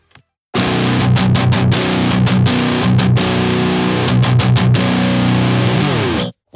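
Electric guitar playing through two SL100 Crunch amp heads at full gain, a loud, continuous distorted crunch of sustained chords with brief choppy breaks, cutting off near the end.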